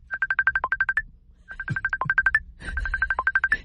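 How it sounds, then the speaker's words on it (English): The Facebook Messenger notification tone rings on a phone, three repeated bursts of quick bright electronic pips, clear and prominent, with faint background noise between them. "It's the Facebook Messenger."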